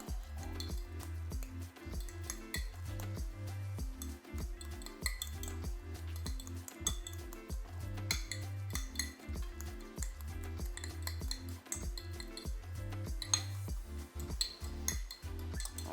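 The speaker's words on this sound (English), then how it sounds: "just take a fork, smash this stuff up and get it mixed" A fork mashes avocado in a bowl with faint, rhythmic scraping and clinking strokes repeating steadily at a quiet level, with no voices.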